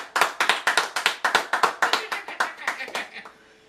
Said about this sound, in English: I want a real clap.